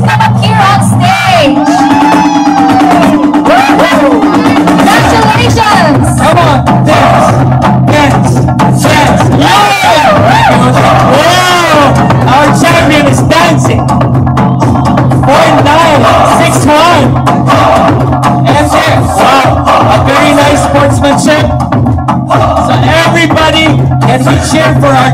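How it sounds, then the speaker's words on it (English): A loud crowd cheers and shouts at a road race awards podium in Clark, continuous and dense throughout, with amplified voices and noise layered over it. "Cheer for our champion"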